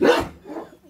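One short, loud bark from a dog found as a stray, close up, followed by a fainter trailing yelp.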